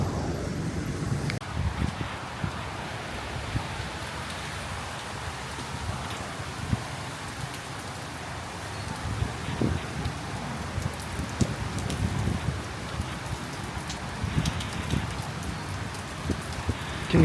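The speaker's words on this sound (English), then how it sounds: "Can you hear the wind and the rain?" Rain patters on the jungle canopy in Puerto Maldonado during the rainy season, with gusty wind and rustling leaves forming a steady, dense wash of noise.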